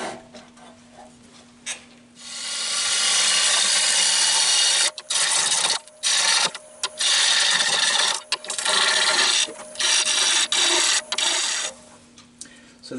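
A tool cuts spalted hackberry wood spinning on a lathe, making loud, harsh hissing passes that repeatedly break off and resume over a low motor hum.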